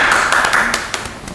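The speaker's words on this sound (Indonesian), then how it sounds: "Tepuk tangan dong." A few scattered claps, sparse and uneven, fairly close, with a faint murmur of background noise.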